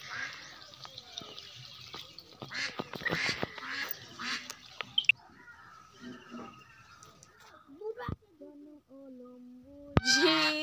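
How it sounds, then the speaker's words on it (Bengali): Two pet ducks, a goose and a common duck, quacking and calling in short irregular bursts nearby, with a few louder honk-like calls and some splashy noise mixed in. "দুটো হাঁস, একটা রাজহাঁস আর একটা পাতি হাঁস"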